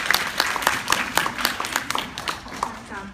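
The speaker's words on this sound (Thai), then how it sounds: "ขอเสียงปรบมือให้กับน้องพร้อมพร้อมสิริภาสยวรรณค่ะ" Audience applause for a young woman being introduced, a brisk patter of separate, fairly close handclaps with a light murmur underneath.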